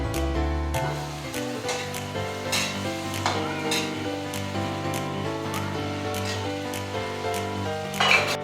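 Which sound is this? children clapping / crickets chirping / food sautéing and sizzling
food sautéing and sizzling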